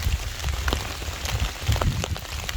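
Steady rain patters on surfaces at a wet winter campsite, dense drops and scattered louder splats forming a continuous close wash with no talk.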